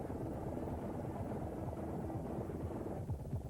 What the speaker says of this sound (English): waving to the helicopter up ahead that everything has been taken care of